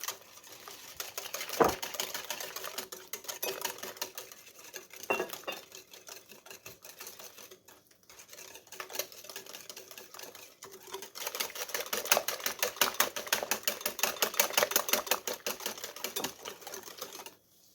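An electric hand mixer runs steadily while beating cake batter made with oil and sugar in a Moroccan home kitchen, a continuous whirring drone with a sharp click near the start and louder stretches toward the end, with no one speaking.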